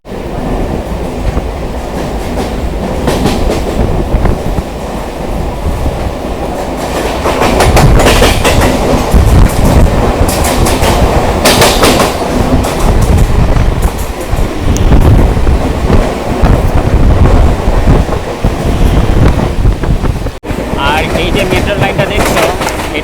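A Sealdah to Bangaon local train runs along the tracks toward Barasat, producing a loud, continuous rumble with rattling carriages and rhythmic wheel clatter, heard from inside the coach.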